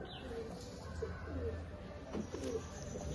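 A pigeon coos softly several times in a garden loft at a Krishnanagar pigeon competition, low, rounded murmurs over faint background hiss.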